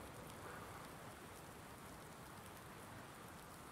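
Steady rain in the video game Farming Simulator 19, a continuous even hiss of falling drops, soft and distant-sounding, with no voices.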